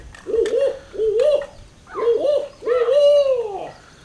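A person imitates a barred owl's hooting call, four rhythmic, hooting phrases with the last drawn out into a long descending note, close and clear.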